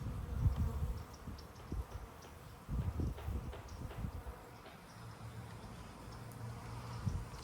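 A small honeybee swarm caught in a ten-gallon bucket trap, heard as a soft, steady insect hum with faint rustling and scattered light taps, fairly quiet and close, with no talking.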